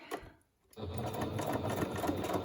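A sewing machine stitches a small fabric bug in a fast, steady whir that starts after a brief pause, close and clear with no talking.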